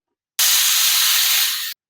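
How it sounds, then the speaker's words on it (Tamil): A kitchen pressure cooker whistles as it vents steam while lentil curry cooks, giving one loud, steady hiss of about a second and a half that starts and stops sharply, with no talk. "இப்போ நாலு விசில் அடிச்சிருச்சு"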